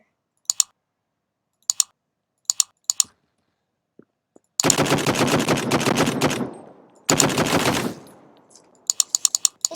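Rapid SMG gunfire in the video game Krunker: a few sharp clicks, then two long, loud, sustained automatic bursts, followed by more scattered clicks, with no talking.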